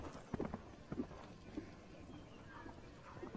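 Hooves of a six-year-old gelding thud softly in an irregular walking rhythm at a horse show, faint and somewhat distant beneath low background ambience.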